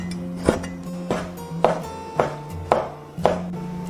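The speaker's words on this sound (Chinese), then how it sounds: "把猪心切薄片。" A kitchen knife slicing pig heart into thin slices on a cutting board: six sharp, evenly spaced chops about half a second apart, close and distinct, with a faint hum between them.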